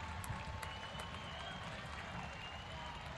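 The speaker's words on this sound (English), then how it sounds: "Applauding the delivery." Stadium crowd at a women's professional soccer match between Racing Louisville and Gotham FC, applauding a wide header chance, a dense steady wash of clapping and crowd noise under a commentator's voice.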